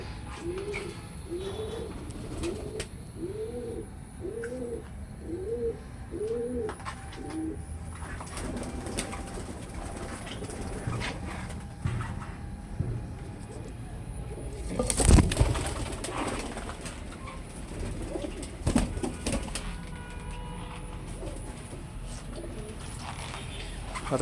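Pigeons coo in a clear, rhythmic series of low repeated calls in the first few seconds, nearby, then fade into quiet ambience broken by occasional faint rustles, flaps and knocks.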